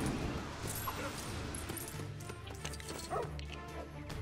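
A guard dog in the LEGO Pirates of the Caribbean video game gives a few short barks and yips amid game music and effects, with a voice talking over parts of it.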